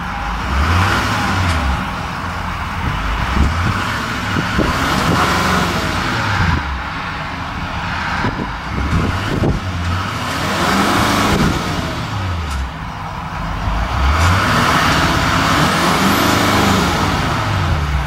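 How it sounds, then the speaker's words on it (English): A 2013 Chevrolet Silverado 3500HD dually with a Duramax diesel engine idles and revs up and down in repeated swells, heard loud and close from inside the cab, with a faint turbo whistle riding over the engine. "Definitely hear a little bit of that turbo whistle."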